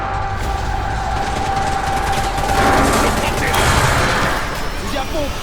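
Shotgun and automatic gunfire in a war film battle scene, a steady dense barrage of loud overlapping shots with heavy rumble, and voices speaking beneath the din.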